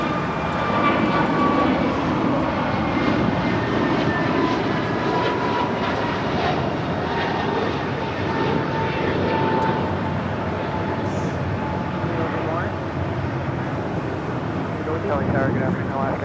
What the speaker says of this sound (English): That was American 1225 departing to Philadelphia on an A321neo.